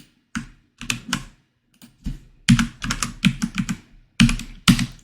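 Rapid bursts of keystrokes on a computer keyboard while entering JavaScript code for a tip calculator, clattering in uneven clusters with short pauses between runs, close and fairly loud, with no talking.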